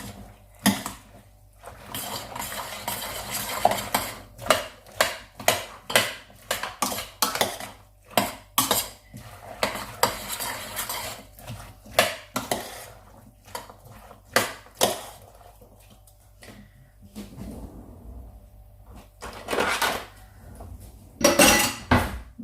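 Beef stew ingredients being stirred and mixed for pressure canning, a run of sharp metallic clinks and scrapes of utensils against pots and bowls at irregular intervals, close and loud with quieter gaps between.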